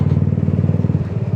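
Motorcycle engine, apparently a TMAX-type scooter, running in traffic heard from the rider's position, with a loud, close, steady low throb and regular pulsing, no talk.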